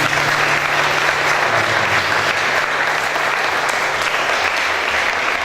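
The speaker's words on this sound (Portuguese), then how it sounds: "Você pode aplaudir o Senhor?" Steady, dense applause from a church congregation during an evening family service, sustained and fairly loud across the whole stretch with no break.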